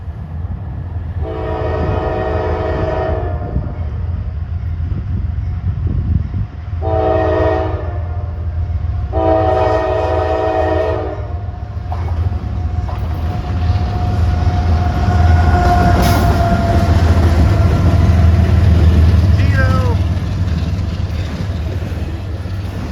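A freight train rolls past at a rail line in Erlanger, with a loud steady low rumble of wagons throughout and three long, chord-like horn blasts sounding in the first half, closer and prominent over the rumble.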